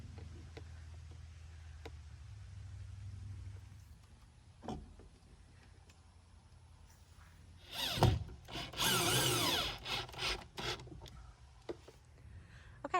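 A power drill drives screws to mount window boxes onto a new garden shed, in short whirring bursts around eight to eleven seconds, fairly close, with quiet outdoor background and no talk.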